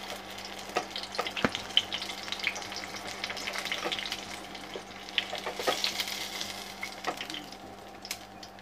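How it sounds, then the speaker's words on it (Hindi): Food shallow-fried in oil until crisp on both sides sizzles steadily at close range, with a dense crackling hiss, occasional sharper pops and a low steady hum underneath; no one talks. "ये फ्राई हो गया है दोनों तरफ से अच्छी तरह और क्रिस्पी भी बन गया है"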